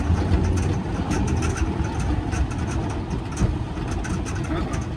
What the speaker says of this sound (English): It's a sputter.